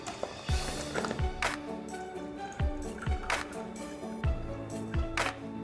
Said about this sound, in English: So quickly I'll pour some water again.